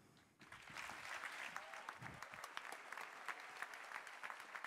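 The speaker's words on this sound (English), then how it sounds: "So please give a big applause for Bianca." Audience applause at the premiere of the Uniti One electric car starts abruptly and continues as a steady, moderately distant wash of clapping with scattered sharper claps.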